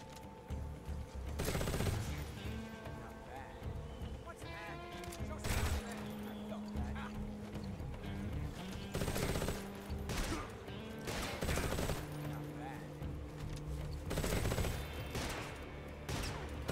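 Repeated gunshots ring out in a Metal Gear fight, a sustained clatter of bursts and single cracks over steady game music and mechanical effects, with a player commenting intermittently.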